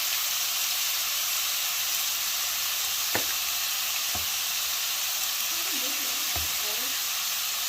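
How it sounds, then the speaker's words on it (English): Steak frying in butter with seasoning in a skillet gives a continuous bright hissing sizzle, close and even, with a few brief clicks of a utensil. "we put 2 small knobs of butter just to keep it from sticking to the skillet"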